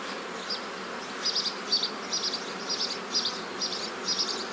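Honeybees bring pollen in at their hive in late May, a steady close buzzing hum with pulsing swells as the insects fly near, unaccompanied by speech.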